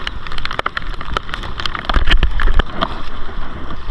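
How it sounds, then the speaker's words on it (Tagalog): Rain patters on a boat at sea, a dense, close spatter of drops and sharp taps over a low watery rumble, continuous for a few seconds with no talking. "Yan ang ulan mga buds."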